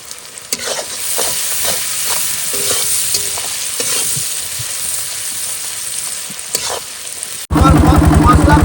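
Fish sautéing with garlic, turmeric and salt in a pan, a steady close sizzle broken by scraping stirs, ending with a sudden louder, harsher burst of frying.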